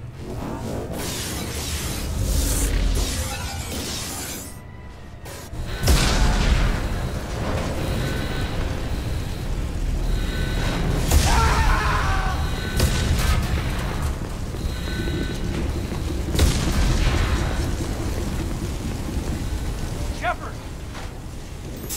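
Explosions and fire on a damaged spaceship in Mass Effect 2, deep booms and crackling blasts rumbling continuously under urgent voices.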